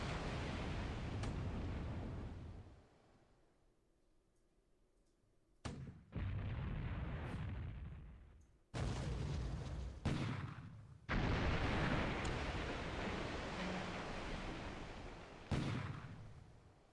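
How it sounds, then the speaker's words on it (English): A submarine's deck gun fires on the surface in the naval war game War in the Pacific, heavy booming blasts with long rumbling tails, several separate shots spaced seconds apart, loud and close with a quiet gap between. "He just wanted to use the deck gun on the surface."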